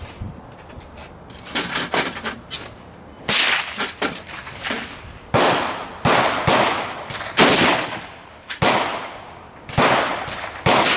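Mosin-Nagant M91/30 rifles firing at an outdoor range, a series of sharp, loud, nearby cracks with echoing tails, spaced irregularly about a second apart, with some shots coming in quick pairs.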